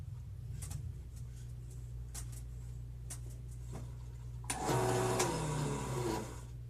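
An acrylic fountain pen blank has its face squared on a lathe: a steady low motor hum with faint ticks, then a loud, rough cutting rasp for about two seconds before easing back to the hum.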